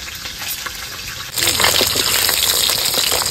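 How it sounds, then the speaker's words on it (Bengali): Cashews and raisins frying in hot oil, a quiet hiss that abruptly jumps into a loud, continuous crackling sizzle, close and bright. "কিছু কাজু কিশমিশ ভেজে নেব"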